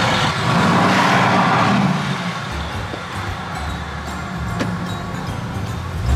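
A steady Mercedes-AMG engine idling and rumbling low, with some rattling and mechanical noise on top, continuous throughout with no talking.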